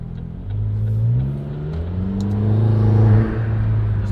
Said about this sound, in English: I like those turbo noises.